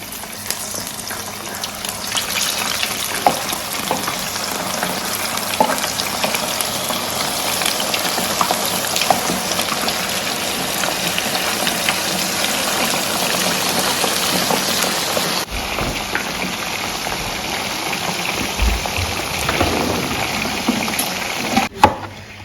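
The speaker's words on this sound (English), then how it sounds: "We'll start by frying our fish." Steady, loud crackling sizzle of tilapia frying in hot oil, continuous throughout with dense spattering and no talking.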